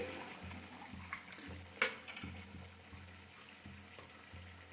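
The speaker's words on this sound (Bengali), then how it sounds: "এক পাশে আমার গোকুল পিঠে তেলে ভাজা হচ্ছে" Gokul pitha, a sweet fritter, fries in oil with a faint, steady bubbling sizzle and occasional soft clicks and knocks nearby, quiet throughout with no talking.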